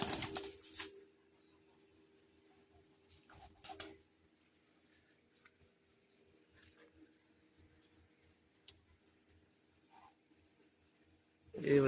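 Pigeons in a loft give faint, low cooing amid soft ticking and shuffling, with someone speaking nearby at the start and a louder coo at the end.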